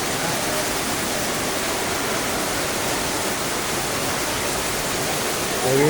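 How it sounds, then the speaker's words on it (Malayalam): Heavy rain pouring steadily, a dense, continuous hiss that stays loud and even throughout with no talk over it. "ഫുള്ള് മഴയാണ്."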